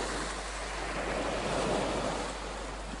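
Sea surf washes in a steady, unbroken broadband rush for the full stretch, slightly swelling near the middle, with no voices over it.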